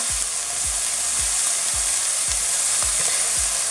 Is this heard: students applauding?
no